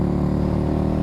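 A Ducati Scrambler motorcycle engine drones loudly and steadily under throttle for about a second, with a strong low, rumbling tone and no speech.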